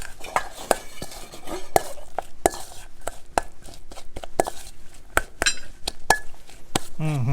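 Raw foal meat salad being mixed in a dish, with repeated sharp clinks and scrapes of utensils against the bowl in an irregular rhythm, close and fairly loud, and faint talk in places.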